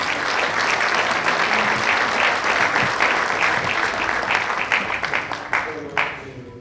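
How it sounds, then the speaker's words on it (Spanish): Audience applause at a biomining conference session in Catamarca, a dense, loud sustained clapping that fades toward the end as a speaker's voice begins. "recibimos con un fuerte aplauso al disertante"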